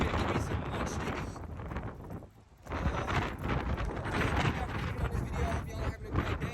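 Strong wind blowing outdoors in a store parking lot, buffeting the microphone with loud, continuous rumbling gusts that dip briefly near the middle before surging back.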